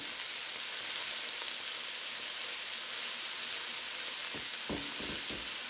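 Onions sautéing in a hot pan give a loud, steady sizzle throughout, with a few spoon or spatula knocks stirring near the end.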